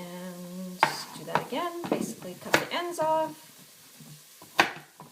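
Chopped onions sizzle in a pan on the stove while chicken soup is being made, a low steady frying hiss that stays under a person's close, continuous talking.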